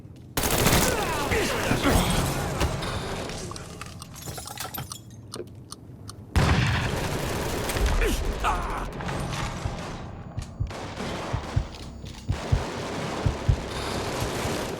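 Rapid bursts of gunfire and a blast from Mafia 3, with dense, loud volleys rattling through most of the scene, a sharp explosion-like impact near the middle, and scattered single shots after; voices shout under the noise.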